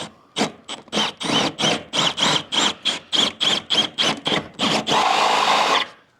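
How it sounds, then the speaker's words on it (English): A power drill with a 1/2-inch bit bores through plywood and aluminum boat decking in about a dozen quick, evenly spaced bursts, then grinds steadily for a second before stopping. Loud and close. "you do have to use a pretty big drill bit. Go through with a 1/2-inch drill bit"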